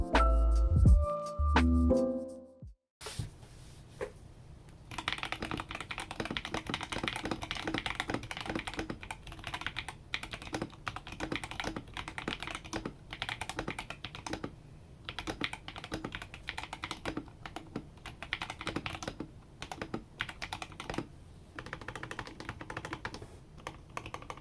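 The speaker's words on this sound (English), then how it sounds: "I'll put a sound test after this." Typing on a CIY Tester 68 mechanical keyboard fitted with Outemu Panda switches and one layer of tape inside: a dense, continuous patter of fairly soft, muted key clacks at a steady pace after a brief opening sound.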